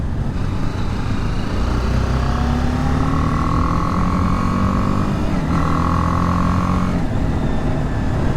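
A BMW G310R single-cylinder 300-class motorcycle engine runs while riding, a loud continuous drone with pitch rising through the revs, dipping briefly at a gear change, then climbing again amid steady wind rush.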